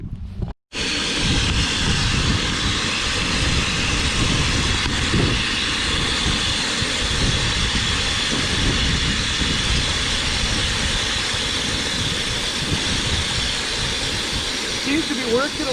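A skid loader's engine runs steadily while it moves manure out of a cow corral, a loud, constant close drone that holds for the whole stretch after a brief quiet start.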